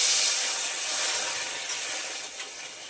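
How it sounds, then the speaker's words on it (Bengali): A small splash of water hits an overheated wok on a lit stove and sets off a loud, broad hissing sizzle that starts strong and slowly fades over a few seconds, with no speech. "কড়াইটা বেশি গরম হয়ে যাচ্ছে, তাই অল্প করে জল দিয়ে দেবো।"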